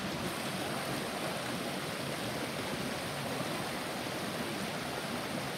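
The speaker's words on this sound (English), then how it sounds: "So here we are at the waterfall Svartifoss." Steady broadband rush of Svartifoss waterfall in Skaftafell National Park, Iceland, running low and thin in a dry spell, a constant close wash of falling water with no voices.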